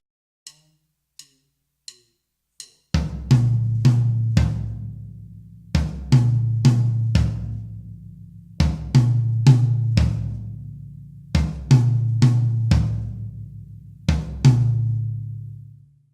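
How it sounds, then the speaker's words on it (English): An Afro-Cuban wah-wah-ko conga pattern played on tom drums: a few light clicks lead in, then repeating booming tom phrases of several quick strokes each, recurring roughly every three seconds and played alone. "This is played on congas, and the pattern sounds like this on just the toms."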